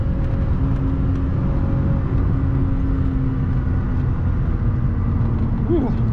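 A BMW E36 320i coupe driven hard on a curvy road, its engine droning steadily from inside the cabin with a constant rumble and someone talking over it.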